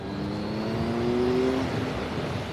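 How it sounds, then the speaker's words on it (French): A 2017 Triumph Speed Triple 1050 with an inline three-cylinder engine accelerates from about 70 km/h, a steady close engine note rising in pitch under strong wind rush, with no talking. "je vais mettre gaz"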